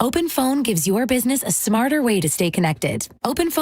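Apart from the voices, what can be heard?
None of the usual background noises is heard.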